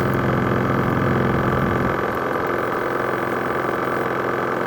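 A Champion portable generator engine runs steadily and loudly nearby, a constant droning hum with a slight dip in pitch partway through and no voices.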